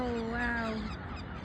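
A huge flock of thousands of birds gives goose-like honking, a loud, close wash of overlapping nasal calls that swells and then thins toward the end.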